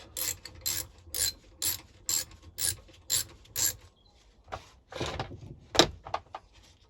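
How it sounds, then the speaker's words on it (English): A 1/4 inch socket ratchet clicks in about eight even, rhythmic strokes while loosening the governor arm bolt on a Briggs and Stratton Sovereign lawnmower engine. The clicking is close and clear, followed by a few softer, irregular mechanical clicks and knocks. "This is a 1/4 inch socket. Just crack that off."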